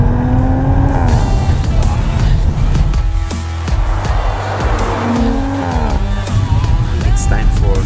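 A 2017 Audi RS5 accelerates hard on throttle, its engine note climbing loud and near with tire squeal and gear changes, a brief dip mid-run before it pulls again.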